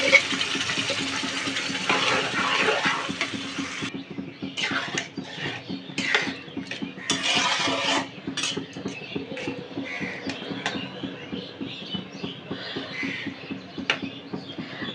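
Boiled mashed potato is stirred into a spice mixture in a pan, giving irregular soft scrapes, taps and patters from a spatula over a faint low hum, with no voices.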